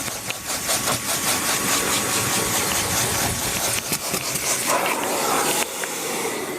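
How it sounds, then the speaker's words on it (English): A vacuum cleaner runs steadily on a car's carpet, a loud continuous droning whoosh with faint rustling shifts as the nozzle moves, then a slight drop in tone near the end; no talking. "you'll see that my vac won't even suck all this stuff up"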